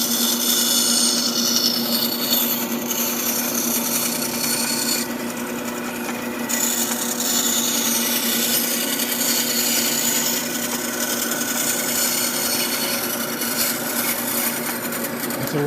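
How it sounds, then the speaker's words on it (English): Bandsaw slicing a wooden disc into a circle as the piece turns on a pivot: a steady, continuous rasping hum of blade through wood with a constant motor drone, close and even throughout, no talk. "we're just turning that wood piece on that pivot and letting the bandsaw cut that circle"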